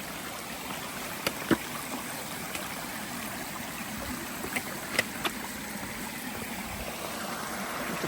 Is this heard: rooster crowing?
no